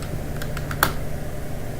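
Computer keyboard keys tapped while playing a game, four or five quick close clicks with one sharper press near the middle, no talking.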